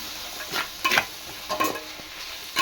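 Tomatoes frying with salt in a pan for prawn biryani, with soft sizzling and a few scraping stirs of a spoon against the pan at close range, no talk.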